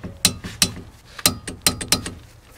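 A ratchet snugs down the caliper bracket bolts on a 2006-2012 Toyota RAV4 during a front brake job, several short bursts of crisp metallic clicking in quick uneven strokes, close up with no talking.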